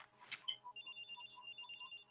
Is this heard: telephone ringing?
yes